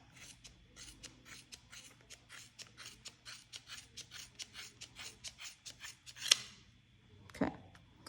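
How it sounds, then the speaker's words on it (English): Sharp scissors snip repeatedly through the center of a yarn pom pom, a quick run of crisp, regular cuts close by, then a couple of louder clacks near the end. "I'm going to take a nice sharp pair of scissors, and I'm going to cut the center right in between here"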